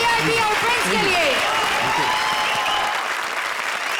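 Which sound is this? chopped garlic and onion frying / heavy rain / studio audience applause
studio audience applause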